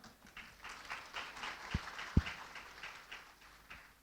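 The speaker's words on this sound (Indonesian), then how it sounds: "Terima kasih, tepuk tangan." Faint, scattered clapping from a small panel discussion audience at an innovation summit in Jakarta patters on for several seconds, distant and soft.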